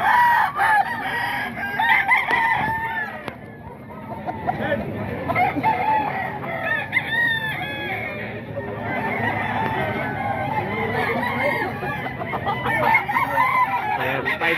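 Roosters crow and chickens cluck continuously at the Bocaue tiangge market in the Philippines. The birds are close and loud, with someone speaking Filipino throughout the clip.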